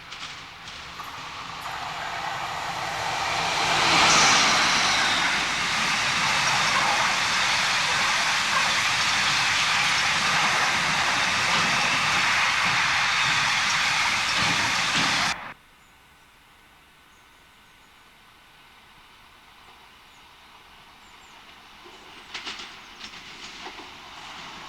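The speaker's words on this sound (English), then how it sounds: "Now train 6M34, empty Hanson hoppers, from Acton to Peak Forest." A freight train of empty Hanson hopper wagons runs from Acton to Peak Forest, passing alone as a loud, steady rumble with clickety-clack. After about fifteen seconds it cuts off abruptly to quiet ambience, with a few faint knocks near the end.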